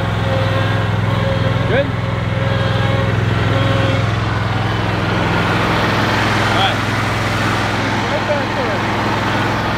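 A ride-on lawn mower engine runs steadily close by, giving a loud, continuous drone, while a person briefly speaks over it.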